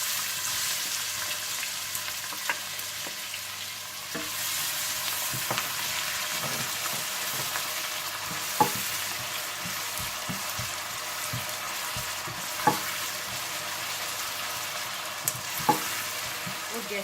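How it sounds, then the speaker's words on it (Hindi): Onions and cumin seeds fry in hot oil in a pan, giving a steady close sizzle throughout, broken by occasional scrapes and clicks from stirring. "और जैसे ही जीरा थोड़ा सा भून जाए तो आप इसमें प्याज डालकर हल्के से गोल्डन ब्राउन कर लें।"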